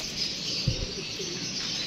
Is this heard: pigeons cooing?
yes